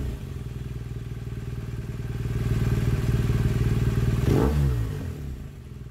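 A BMW R1200RS motorcycle with a 1170cc boxer engine idles with a steady, pulsing throb, then swells briefly with a rise in revs before settling back, close and loud with no talk.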